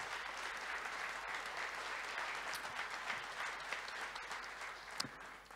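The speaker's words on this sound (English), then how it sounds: "Big round of applause for Pat Cox." A summit audience gives steady, dense applause for a speaker, heard from a distance and faintly, sustained for several seconds.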